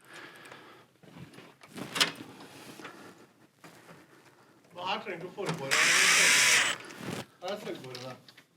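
A power drill drives self-drilling screws to mount an insect-screen storm door. The one-second, loud whirring burst comes in the middle of conversation, with people talking before and after it.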